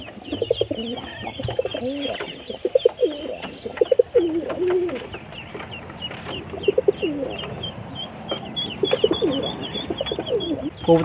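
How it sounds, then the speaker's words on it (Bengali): Several pigeons, including a pair of Giribaz pigeons, coo repeatedly in a village setting, with rhythmic throaty calls recurring throughout at close range alongside scattered clicks and light background noise. "গুলা খুব ভালো কবুতর এই যে এই জোড়া গ্রিবাসটা দেখেন অনেক সুন্দর"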